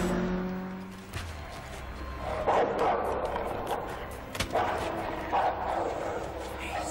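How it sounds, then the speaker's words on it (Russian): A dog barks several times at uneven intervals, fairly close and moderately loud, over a steady low rumble like a car engine in the background of an action film scene. "Хороший пес."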